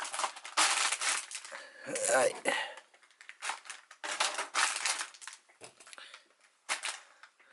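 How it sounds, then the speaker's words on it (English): Plastic bags from a model kit box being rustled and crinkled, crackling bursts coming close up in uneven clusters with brief pauses between them. "I don't know why I keep these plastic bags"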